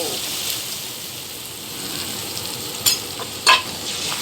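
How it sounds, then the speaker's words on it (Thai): Beaten eggs with cha-om leaves go into hot oil for a Thai omelette, producing a steady bright sizzle throughout, close up, punctuated by a couple of sharp clicks and spatters. "น้ำมันร้อนแล้วก็ใส่ไข่เราไปเลย ใส่เจียวชะอมของเรา"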